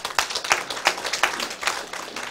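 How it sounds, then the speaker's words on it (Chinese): An audience at a Taiwanese political seminar lecture claps together: a dense burst of applause with uneven surges, fairly close and moderately loud, with no talking. "拍手啦！"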